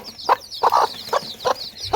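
Hens at home cluck while being fed grain, giving four or five short, close cluck bursts at an uneven rhythm over a faint chirpy background, with no one talking.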